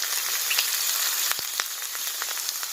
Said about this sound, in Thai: ใส่ กระเทียมเจียวหอมเจียวค่ะเอาลงไปเจียวกัน